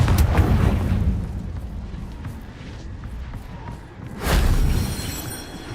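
Confringo fire spell explosions in the video game Hogwarts Legacy, with a loud rumbling blast at the start and a second heavy burst near the end amid ongoing game noise.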